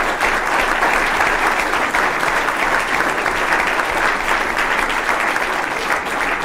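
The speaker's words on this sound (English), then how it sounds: "I think that deserves a round of applause." Sustained applause from a crowd after a chess game, dense steady clapping that holds at an even, loud level throughout with no voices on top.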